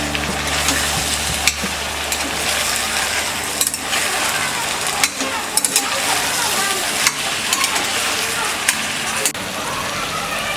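Cauliflower, tomato and other vegetables fry in a pan for masala rice, a steady loud sizzle running throughout while a spatula scrapes and clacks against the pan at irregular intervals.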